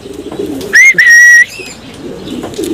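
A young female racing pigeon calls close by in two short, clear tonal bursts, the second longer, over a low murmur of background noise.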